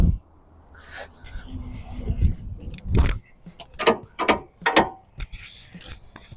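Fold-down ladder steps on a camper van are folded and clanked into place in a series of sharp metallic clacks and ratcheting knocks, with pauses between them.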